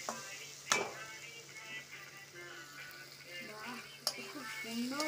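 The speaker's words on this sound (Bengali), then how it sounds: "ওই মশলাগুলোকে খুব ভালো করে প্রায় 5-7 মিনিটের মতো কষিয়ে নেব।" Spice paste frying and being stirred in a pan for a lote fish curry, a faint soft sizzle with two sharp scrapes of the spoon, and quiet voice-like sounds in the background.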